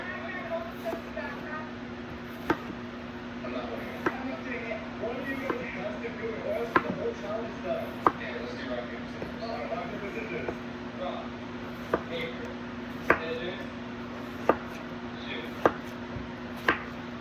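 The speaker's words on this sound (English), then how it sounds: "now that my watermelon half is peeled, I'm just going to cut it into little cubes" Knife chopping peeled watermelon into small cubes on a board, sharp regular taps about one per second, faint and close, over a steady background hum with soft speech.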